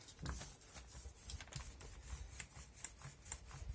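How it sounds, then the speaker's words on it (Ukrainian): A paint roller works across kitchen furniture in quiet, rhythmic rubbing strokes, each a short soft scrape repeating at an even pace, close but faint, with no voices. "далі у нас валик вступає в роботу"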